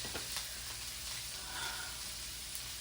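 Steak with peppers and onion sizzles in a pan, a steady, fairly quiet frying hiss with faint crackles throughout and no talking.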